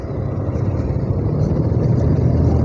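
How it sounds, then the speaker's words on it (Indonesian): A bus passing on a hot, sunny city street in Banjarmasin, heard as a steady, loud engine and road rumble throughout from a moving motorbike, with no voices. "Ada bus nih."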